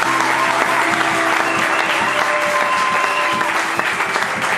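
A congregation at a Congolese civil wedding ceremony in Brazzaville claps continuously and loudly in a dense, even burst of applause, with faint voices mixed in.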